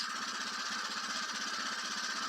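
A rebuilt mini tractor engine chugs close by with a rapid, rattling mechanical knock, a loud continuous buzzing run over a few seconds.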